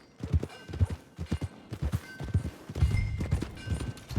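Horse hooves clip-clop in Red Dead Redemption 2, a steady walking rhythm of close, distinct hoof strikes that runs the whole time and grows slightly denser toward the end.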